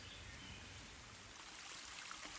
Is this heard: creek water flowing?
yes